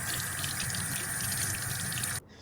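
Tap water runs steadily into a sink as BMW E46 cabin filter parts are rinsed, a constant close hiss that cuts off sharply just before the end.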